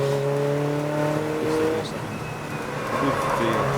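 BMW M3 race cars with big wings and other club racers at Snetterton circuit sound off in the distance, with engine tones droning and shifting under faint background noise.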